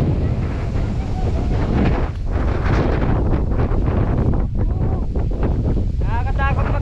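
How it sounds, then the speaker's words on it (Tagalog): Strong gusting wind roars across the microphone at a seaside view deck in Dingalan, Aurora, loud and constant, with voices talking and exclaiming under it. "lakas ng hangin"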